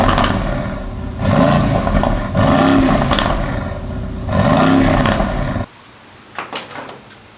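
An AMG twin-turbo V8 fitted with Borla Attack exhaust baffles revs hard in repeated loud blips, each rising and falling roar close by, before dropping to a quieter idle with faint clatter.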